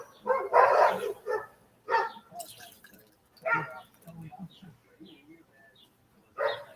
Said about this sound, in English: My neighbor dog's up the street.